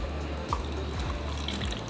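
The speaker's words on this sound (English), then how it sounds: "we're going to pour it into the glass" Bubble tea in Taiwan is poured from a cup into a glass, giving a steady, soft liquid stream with light gurgles, close and alone.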